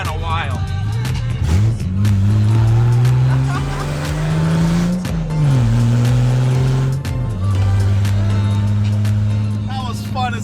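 A BMW E28 with headers and no exhaust revs and pulls hard, a loud raw engine note rising and falling through gear changes with some tire noise, close up and dominating, with a voice speaking over it.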